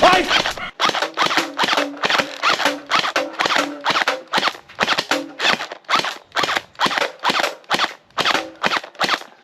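Rapid volleys of sharp shots from a gel blaster toy gun, about twenty close, loud cracks fired in a steady rhythm one after another, with no talking.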